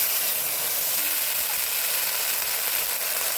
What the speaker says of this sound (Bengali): তেল গরম হয়ে গেছে, ফুটন দিয়ে দিই।